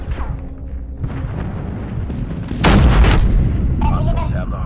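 Friendly airstrike in a multiplayer shooter video game: heavy booming blasts hit around the middle of the clip, loud and close, under game radio chatter and other battle noise.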